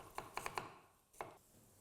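Knife chopping onion on a cutting board for pulao: four quick, sharp taps in a row, a pause, then one more cut, close and fairly soft.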